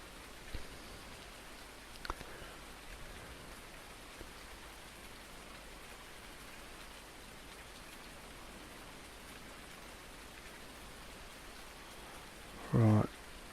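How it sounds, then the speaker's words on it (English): Steady, even rain hiss in Farming Simulator 19 throughout with a few soft pattering spikes, and a brief louder thump near the end. "Look, God, it's raining."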